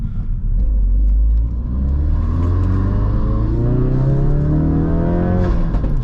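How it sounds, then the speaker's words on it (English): A Ford Focus RS Edition engine revving up and settling into a deep, rumbling exhaust burble, loud and close, with rising then steady tones that throb continuously. "it makes some nice burbly burbles"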